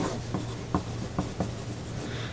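Pencil scratching across a large white square of paper as a name is written, soft close strokes with a few distinct taps and scrapes, quiet and alone.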